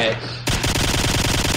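After a brief lull, loud rapid-fire gunshots from the video game DayZ erupt in a fast, even rhythm and continue to the end.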